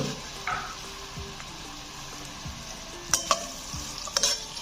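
Medium-sized onions frying in hot oil for aloo tahari, a steady soft sizzle with occasional scraping stirs and a few sharper clinks of a spoon against the pan, no talking.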